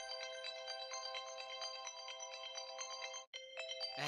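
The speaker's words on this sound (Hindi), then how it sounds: "अलार्म बज रहा है।" An alarm clock rings in a repeating, bright electronic tonal pattern, steady and fairly quiet, with a brief break near the end before resuming.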